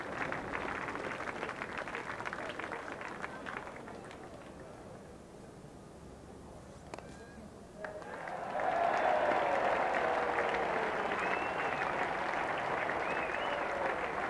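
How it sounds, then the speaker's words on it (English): A cricket crowd at a 1995 England vs West Indies Test match applauds Graeme Hick reaching his fifty. Steady distant clapping swells into a louder, sustained ovation partway through, under a commentator's voice. "Great cheer goes up. Graeme Hick acknowledges applause for his 50."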